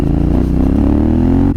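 A Yamaha Ténéré 700 motorcycle being ridden over grass, its engine a loud, close, steady drone that cuts off abruptly near the end.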